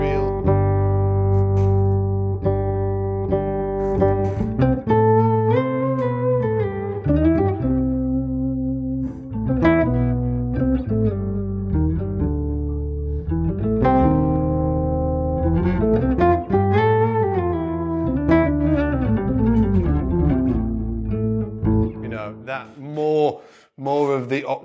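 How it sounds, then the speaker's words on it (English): Bass guitar played through an Electro Harmonix Micro POG octave pedal with a touch of delay, a continuous run of octave-doubled notes and slides, loud and close with no talking. "that's the micro pog from Electro Harmonix"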